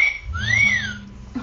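A whistle sound effect, not a referee-style whistle, plays alone: a short clear tone that swoops down, rises, arcs back down and cuts off within about a second.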